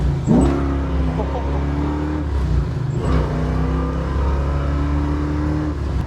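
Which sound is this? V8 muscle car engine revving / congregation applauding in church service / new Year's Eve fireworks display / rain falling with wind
V8 muscle car engine revving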